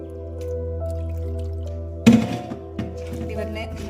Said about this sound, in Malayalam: ഇതിലേക്ക് നമുക്ക് ലിവർ ചേർക്കാം.